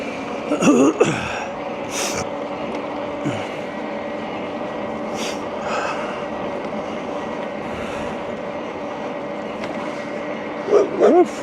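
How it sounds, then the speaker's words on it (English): Dogs bark during an e-bike ride, in a few short sharp bursts spread across the clip, with a double burst near the end. They are moderately distant over a steady hum of riding noise. "These dogs."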